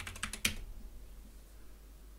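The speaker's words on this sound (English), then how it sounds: "I think I should just literally be able to type restore" A few quick keystrokes clatter on a computer keyboard during a retro Packard Bell PC build, close and crisp, then quiet room tone.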